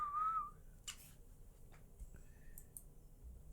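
A person whistles a brief, thin tune at the start, followed by scattered soft clicks and rustles in a quiet room, with no talking.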